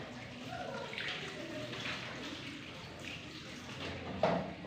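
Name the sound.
rinsing hands under running water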